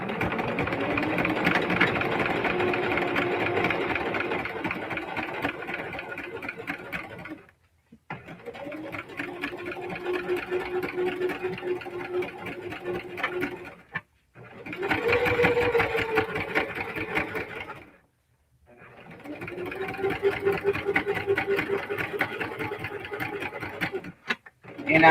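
A Singer Heavy Duty sewing machine runs in four sustained bursts of steady mechanical whirring separated by brief pauses, close and fairly loud while stitching a crossbody bag.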